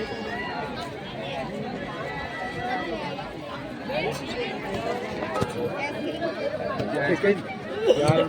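Steady crowd chatter and babble of many voices fill a busy falooda shop during Sankranti, a dense, continuous hubbub close around with occasional louder voices and clatter rising near the end.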